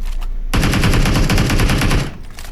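Rapid, loud Uzi fire in the PUBG video game, a continuous burst of closely spaced shots lasting about a second and a half, with quieter shots just before and after.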